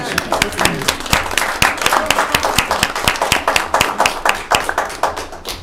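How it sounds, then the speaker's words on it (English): A small group at a board of trustees meeting gives a round of applause, loud, close clapping with distinct individual claps in a fast, uneven rhythm, and voices can be heard beneath it. "Round of applause."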